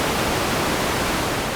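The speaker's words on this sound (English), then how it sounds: "Nice noise, just plain white noise" Plain white noise from a synthesizer's noise oscillator in Ableton makes a loud, steady, unbroken hiss across the full range, with no variation and no voices.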